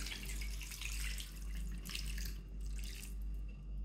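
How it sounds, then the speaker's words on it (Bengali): Water is poured over marinated chicken for a chicken curry, a faint, soft trickling splash with light gurgles, close and quiet. "এখন আমরা পানি দিয়ে নেব"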